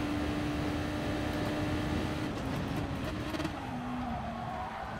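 A race car in Gran Turismo Sport brakes and drops through its gears, its engine a steady loud drone that shifts pitch as the revs step down.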